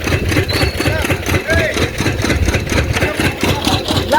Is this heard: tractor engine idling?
yes